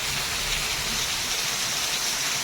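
Heavy rain pours down steadily and loudly, a dense continuous hiss of drops hitting surfaces with no break and no voices over it.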